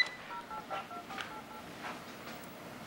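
A touch-tone telephone number is dialed, a quick series of faint, evenly spaced tone beeps with no talking.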